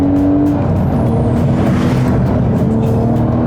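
A Porsche 911 GT3 engine revs hard as the car accelerates, a loud, continuous rising howl up close with faint tire noise underneath.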